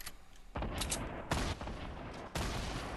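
Rapid gunfire in Fortnite Battle Royale, several sharp bursts of shots at mid distance, each starting abruptly and trailing into rattling noise, with brief quieter gaps between.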